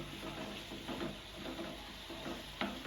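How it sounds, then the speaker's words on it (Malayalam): Fried rice is stir-fried in a pan at a family New Year gathering, a faint, steady sizzle with soft scraping strokes and one sharper clink near the end. "അപ്പൊ നമ്മൾ ഫ്രൈഡ് റൈസ് ഉണ്ടാക്കാനുള്ള തിരക്കിലാണ്."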